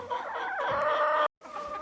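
Hens on a homestead farm cluck and chatter noisily in the morning, a close, excited burst of calls with a brief gap near the end.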